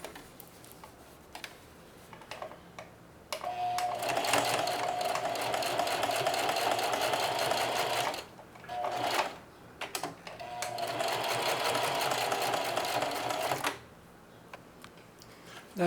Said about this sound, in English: So I'm just tacking that down a little more also. Starting with some straight stitch.